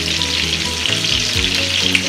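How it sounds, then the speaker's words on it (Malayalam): Coconut oil sizzles and crackles steadily in a clay pot, a dense continuous frying hiss close by with faint low stirring knocks and no voices. "അതിലേക്ക് ഒരു ടീസ്പൂൺ വെളിച്ചെണ്ണ ഒഴിച്ചു കൊടുക്കാം."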